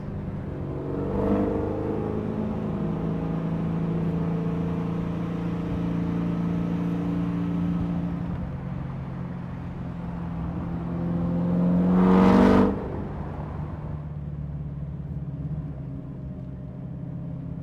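A Corvette ZR1 with the LS9 V8 hums in a steady low idle, the engine swelling to a sharp throttle blip near the end before settling back, heard from inside the car.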